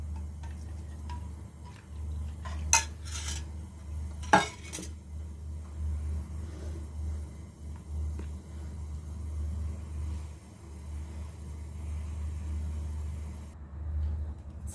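Batter for sweet linko, a Hong Kong dodol, stirred in a bowl, with a few sharp utensil clinks against the dish over a soft, steady scraping and a low background hum, with no talking.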